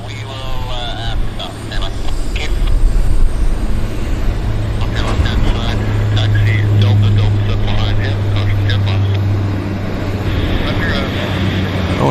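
A Q400 turboprop airliner departing Vancouver Airport, a steady droning engine roar holding throughout amid outdoor background noise and occasional nearby voices talking over it.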